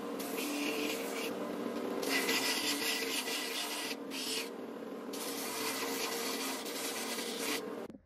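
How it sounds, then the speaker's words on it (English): Bark and sharp knots are ground off a dry wooden branch with a steady, rough, abrasive rasping that carries on almost continuously at close range, briefly easing a couple of times, with no talking. "And then grind off the bark and sharp knots."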